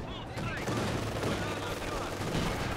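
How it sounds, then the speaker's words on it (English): Machine gun fire in the Company of Heroes 2 strategy game, heard as a dense, continuous battle din of rapid gunfire bursts under a steady layer of effects, with a caster's voice faintly present. "it was like one burst and a little bit of machine gun fire there"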